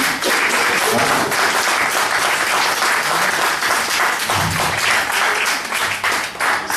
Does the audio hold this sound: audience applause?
yes